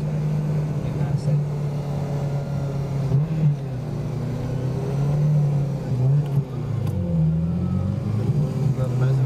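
A Maserati racing car at a classic Le Mans event revs nearby, the engine note rising and falling in mid-range surges while someone talks over it.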